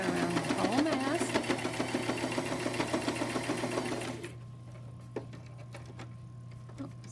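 A sewing machine stitches a fabric face mask, running with a rapid mechanical clatter for about four seconds before stopping, leaving a low hum and a few faint clicks.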